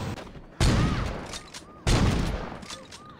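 Two heavy gunshot blasts ring out in Saints Row 2, each a loud sudden boom with a long reverberant tail, spaced about a second apart over a noisy game background.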